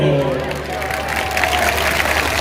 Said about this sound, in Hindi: देखो तालियां बाज रही है